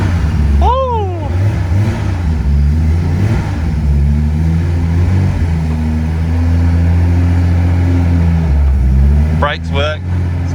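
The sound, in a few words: Datsun 280ZX L28 turbo engine on first drive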